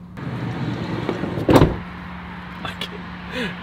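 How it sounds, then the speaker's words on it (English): The heavy sliding door of a VW Grand California camper van closes with a single solid thud, followed by a faint motorised whir, with a steady background hum and muffled voices nearby. "I cannot shut this door. I'm not used to how heavy it is."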